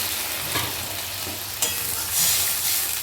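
Water poured onto dry-fried potato and cauliflower masala for a fish curry sets off a sharp burst of sizzling, with a steady close hiss, scraping stirs and a louder surge near the end.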